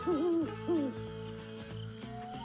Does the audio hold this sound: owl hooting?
yes